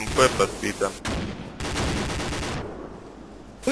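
Gunfire in a video game battle: a rapid burst of shots opens, then a sharp boom and a sustained roar of weapons fire that fades toward the end, with a voice speaking over the fighting.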